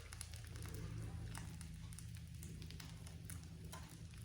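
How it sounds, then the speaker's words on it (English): Steady, soft sizzling of buttermilk pancake batter frying in a pan, a continuous crackly hiss with faint low kitchen hum underneath. "Yeah, you hear that sizzle? It's frying the pancake batter."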